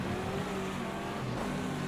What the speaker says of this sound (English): Car slipping and sliding in there beside me.